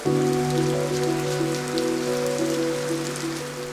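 Steady rain patters on lotus leaves and a pond in Ninh Binh, Vietnam, a constant wash of drops close by, with a sustained musical tone running beneath it throughout.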